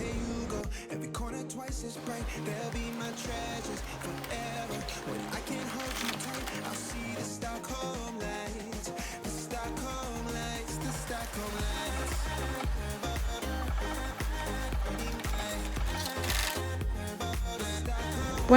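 A sewing machine stitches oiled leather bag straps, a run of rapid mechanical needle pulses in short bursts, close but partly buried under a steady musical background.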